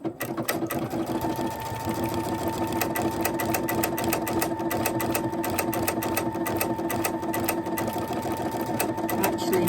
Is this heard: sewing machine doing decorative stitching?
yes